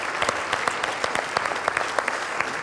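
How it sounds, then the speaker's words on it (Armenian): A studio audience at a televised sports show claps in dense, even applause that continues steadily throughout at moderate loudness. "եկեք ծափարենք։"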